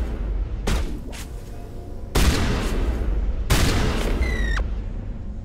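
Shotgun blasts in Mass Effect combat, three loud, heavy booms spaced a second or so apart, each followed by a rumbling tail, with a faint electronic tone sweeping after the last shot.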